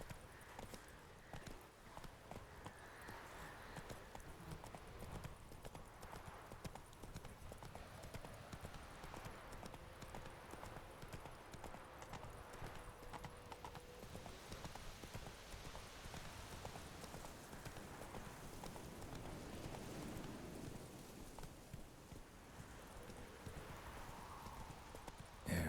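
Horse hooves galloping in The Witcher 3 video game, a continuous rapid clip-clop rhythm under steady ambient noise for the whole stretch, with faint bits of voice.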